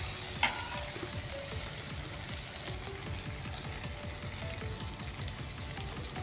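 Potato bhaji with crushed peanuts for a fasting meal is stirred in a pan, a steady close frying sizzle with soft repeated scraping strokes throughout.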